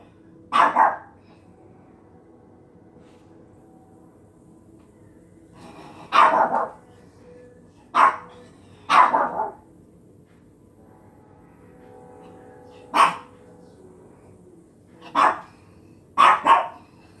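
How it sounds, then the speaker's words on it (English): A wet dog barks indoors after a walk in the rain, giving seven loud, close barks in irregular single and paired bursts with quiet pauses between them. "Why are you barking?"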